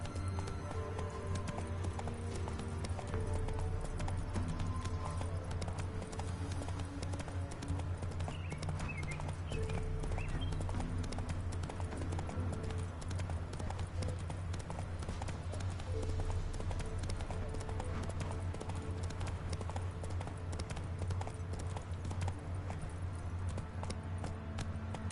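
A horse gallops in The Witcher 3: Wild Hunt, with steady rhythmic hoofbeats running continuously at moderate level alongside game ambience.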